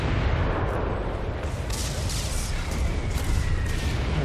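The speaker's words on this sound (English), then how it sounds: "First, we could pound them with those mortars, then perhaps cavalry to sweep them all down." Mortar bombardment in the PC game Guild Wars 2: a dense, continuous barrage of booming blasts and crackling impacts rolls on without pause, loud and close.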